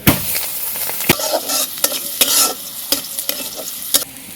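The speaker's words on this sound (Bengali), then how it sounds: "কয়টা কাঁচামরিচ আর পেঁয়াজটা তেলে দিয়ে" A few green chillies and onion fry in hot oil, sizzling loudly and close, while a utensil clacks and scrapes against the pan in quick, uneven strokes; nobody speaks.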